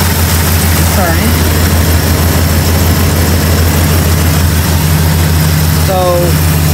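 A 1969 Dodge Charger daily driver idles steadily with a deep, continuous low rumble, close and constant throughout, with faint brief voices in the background.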